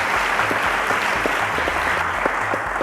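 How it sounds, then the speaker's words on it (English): Studio audience applause for a contestant on the Cowbellpedia quiz show, a dense, steady wash of clapping with a low musical bed pulsing underneath throughout. "A round of applause to her"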